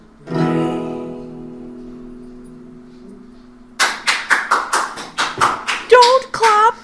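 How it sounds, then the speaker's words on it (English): Hand clapping follows a sustained tonal note: about a dozen sharp, fairly regular claps, close and loud, with a brief voice sounding among the last ones. "Don't clap, don't applaud."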